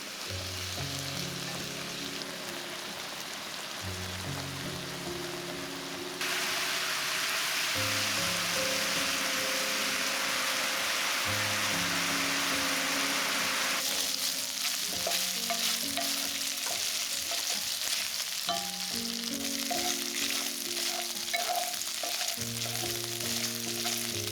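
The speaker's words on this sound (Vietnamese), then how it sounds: "Thỉnh thoảng các bạn đảo đều để thịt không bị cháy ha." Pieces of pork sizzle and are stirred in a pan over medium heat, a continuous loud frying hiss with occasional stirring scrapes, carrying on under steady background music.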